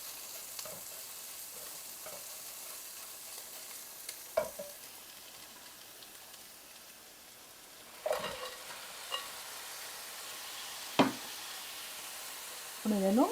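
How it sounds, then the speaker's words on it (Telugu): Crabs dropped into hot oil fried with cumin, coriander powder, salt, chili and turmeric, a soft steady sizzle broken by occasional sharp scraping stirs and knocks of the spoon against the pan. "నూనె తేరిపోతుంది కదా, ఈ టైంలో మనం పీతలు వేసేసుకోవాలి."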